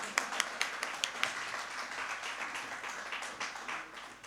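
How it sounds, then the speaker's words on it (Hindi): Audience applause at a Yuva Hindi Sangam event, starting with a few separate claps and swelling into steady clapping from a crowd in a hall, moderately loud throughout. "मेरे नाम पे जो ताली बजाओगे ना, वो मत बजाना, अभी बजा दो।"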